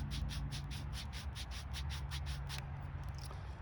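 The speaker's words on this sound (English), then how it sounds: "seating the spindle into the fireboard, and I'll work that around for just a few minutes" A wooden spindle is worked into a mullein fireboard with a primitive bow drill, giving a quick, even run of about a dozen faint, dry rubbing strokes that stop abruptly.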